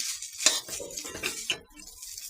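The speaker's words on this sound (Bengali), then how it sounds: "আমি এখানে ভাজতেছি" A spatula tosses and scrapes rice as it stir-fries in a metal pan, with repeated clatters and a couple of sharp clinks. The sound is close and fairly busy.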